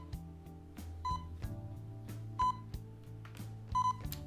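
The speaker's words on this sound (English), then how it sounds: "You guys can hear that beeping" Electronic beeping in Persona 5 Royal: three short, bright tones repeat at steady intervals over ongoing game music and sound effects.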